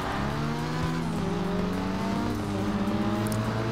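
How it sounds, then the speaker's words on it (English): Toyota Supra in GTA 5 roaring at high speed, a steady loud engine drone with rising and falling revs over a wind-like rush, continuous for a few seconds with no talk. "Oh, Supra is so fast, bro. This car is dope."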